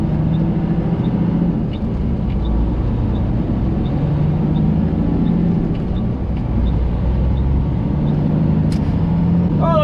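A semi truck with a 13-speed transmission rumbles steadily while turning left through a tight corner in traffic, its low engine drone constant and close with faint road noise throughout.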